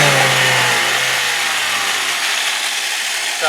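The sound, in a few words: 2003 Saturn Ion 2.2 liter 4-cylinder engine revving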